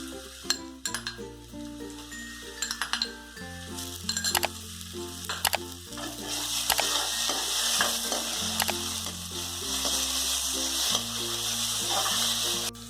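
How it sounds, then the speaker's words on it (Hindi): Ginger garlic paste and onion fry in a pan for bhindi do pyaza, with a continuous sizzle and the repeated clink and scrape of a spoon stirring against the pan, close and fairly loud. "अब हमारा जिंजर गार्लिक पेस्ट और अनियन जो है वो अच्छे से फ्राई हो गया है।"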